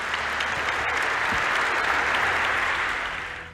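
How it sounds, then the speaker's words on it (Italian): Steady, loud applause from an audience at the 127th national council of FABI, the Italian bank workers' union, filling the whole stretch and thinning slightly at the end. "Siamo noi che ringraziamo lei con un applauso."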